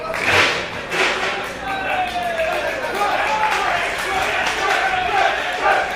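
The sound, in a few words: wrestling crowd cheering on their feet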